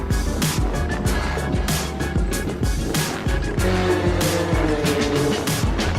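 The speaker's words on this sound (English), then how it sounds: "This is road race karting, a full-size track for full-size fun." Racing go-karts at speed on the full-size Laguna Seca road race track, a steady loud engine roar with passing whines and occasional tire squeal, continuous throughout without speech.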